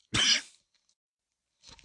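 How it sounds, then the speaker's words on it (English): One sharp, harsh cough close to the mic, then silence and a faint breathy sound at the end. "Sorry for coughing in your ears"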